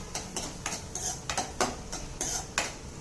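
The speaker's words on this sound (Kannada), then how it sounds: "ಭವ್ಯ ಒಗ್ಗರಣೆ ಮಾಡ್ತಾ ಇದ್ದಾರೆ. ಆನಿಯನ್ನು ಪಿಂಕ್ ಕಲರ್ ಆಗ್ತಾ ಇದೆ." A metal spoon scrapes and clinks in a pan as onions fry in a spiced tempering, about eight distinct stirring strokes over a soft sizzle, close up with no talking.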